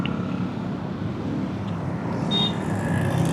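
A traffic jam on Jalan Kopo in Bandung sounds like a steady, dense rumble of idling and creeping engines heard from inside the flow, with some wind buffeting the microphone.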